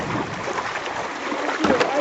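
River water washes and splashes around a paddled boat on a river during a drinking-water source survey, a steady close rushing wash with faint voices underneath.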